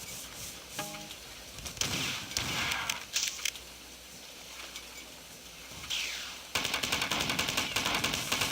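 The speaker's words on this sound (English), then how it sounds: "Nothing like a good assault rifle run." Assault rifle fire in a shooter game, rapid automatic bursts that start and stop, ending in a long loud sustained volley at close range.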